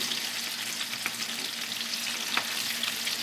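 Eggs fry in plenty of oil in a pan, a steady close sizzle and crackle that holds evenly throughout with scattered sharper pops.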